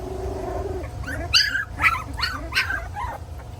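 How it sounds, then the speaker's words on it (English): Young puppies in a litter with their pregnant mother: soft whimpers followed by several short high yips and faint growling, close and fairly quiet over a low background hum. "Somebody's in there trying to start a growl."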